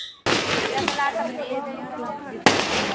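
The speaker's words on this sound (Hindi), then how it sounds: "अब फोड़ेंगे हम पटाखे।" Firecrackers go off at a wedding celebration in a dense, continuous crackling barrage of rapid pops, loud and close, with a sharp fresh burst near the end and voices mixed in.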